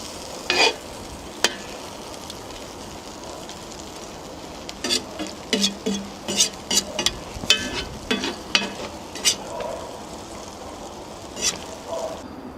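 Chicken in cream sauce being gently stirred in a kazan, a soft bubbling simmer broken by repeated close spoon scrapes and knocks against the pot.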